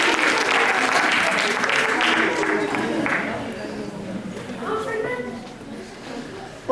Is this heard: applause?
yes